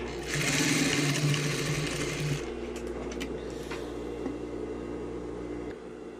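Sewing machine stitching bias binding onto a tailored sleeve, a steady close whirring run for about two seconds that then stops, leaving quiet handling noise.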